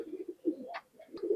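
A pair of Pakistani pigeons coos softly at close range, with a few short, low throaty calls in quick succession.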